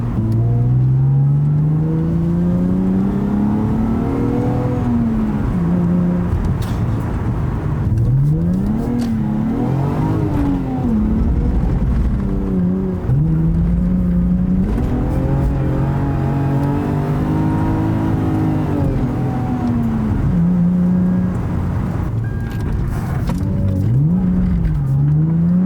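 Lexus IS200 engine revving hard on a test drive, rising and falling through repeated gear pulls over about twenty-five seconds, loud and close from inside the car, with no talk.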